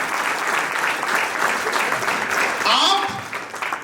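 An audience at a mindfulness talk bursts into sustained, dense applause, loud and close, with a voice speaking briefly near the end.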